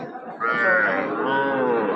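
A heifer or other cow moos at a busy Bengali cattle market selling local heifers and bull calves, one long, loud, drawn-out call close by with a rising, then steady, tonal bellow.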